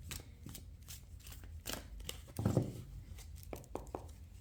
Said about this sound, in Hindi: पहले हम इस डेक से 5 कार्ड्स निकालेंगे